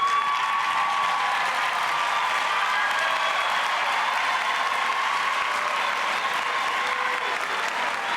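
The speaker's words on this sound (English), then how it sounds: "Would you stand and give them a round of applause?" A graduation ceremony audience applauds steadily and loudly for the full stretch, a dense wash of many hands clapping with faint cheering mixed in.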